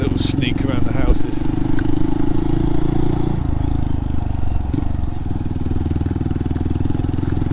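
A small Honda motorcycle rides around tight, narrow, winding roads, its engine a loud, close, steady drone with a brief change in tone midway, under someone talking.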